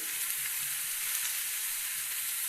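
Oil sizzles steadily in a pan with turmeric and salt, a close, even, hissing fry with no talk.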